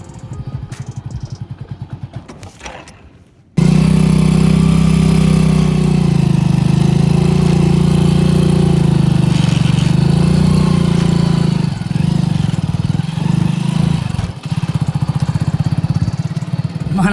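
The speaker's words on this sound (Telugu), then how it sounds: "సో చిన్నగా బీచ్ దగ్గరికి అయితే బైక్ని తీసుకెళ్దామని ట్రై చేస్తున్నా" A motorcycle engine drones as the bike is ridden toward Perupalem beach; after a quieter opening, a loud, close, steady low hum takes over and holds with slight rises and dips.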